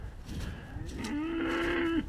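Cattle mooing on a very wet farm, a single long drawn-out low moo rising in the second half and ending abruptly, heard fairly close over outdoor background noise with no talk.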